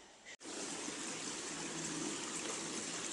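A small stream flows through autumn chestnut woods, a steady, close trickling rush that fills the whole clip, broken only by a brief dip near the start.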